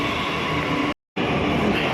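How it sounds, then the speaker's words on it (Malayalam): A loud, continuous rumble of a Delhi Metro train arriving at a station, broken by a brief moment of silence before the roar resumes. "മെട്രോ വന്ന്"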